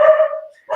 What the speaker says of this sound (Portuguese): Vocês estão ouvindo os cachorros da minha mãe?